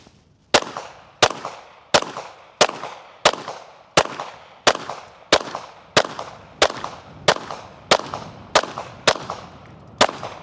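Gunshots ring out in a steady, evenly spaced string of about fifteen sharp cracks during a shooting drill at targets, each loud report followed by a short echoing decay.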